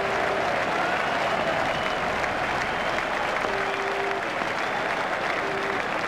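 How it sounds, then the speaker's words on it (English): Cricket crowd at Lord's applauding a boundary four during an England versus Australia one-day international, a dense, steady roar of clapping from a large stadium audience that carries evenly through the whole stretch. "The crowd really enjoyed that shot."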